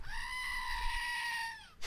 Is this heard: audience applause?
no